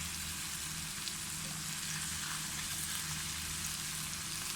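Snapper fish stir-frying in a pan for a Thai stir-fry with Chinese celery, a steady soft hiss and crackle of sizzling oil, even and continuous with no talk.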